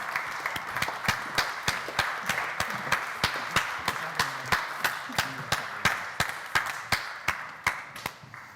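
A crowd at the Cambridge Union claps for an outgoing society officer, a dense spread of hands with a few louder, regular slaps near the listener pulsing steadily throughout, tapering slightly at the end.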